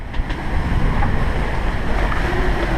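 Big ocean waves and strong wind around a sailboat at sea in the Caribbean, a steady, loud, roaring wash of surf and gusting wind noise that fills the whole stretch with no break.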